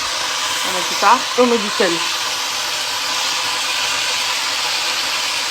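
A cooking pot of gombo sauce hisses with escaping steam, a steady, loud, broadband hiss running the whole time while someone speaks briefly over it in French.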